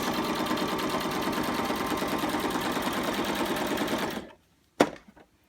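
A sewing machine stitches through a junk journal spine, running in a fast, steady mechanical rattle for about four seconds before stopping, followed by a single sharp click.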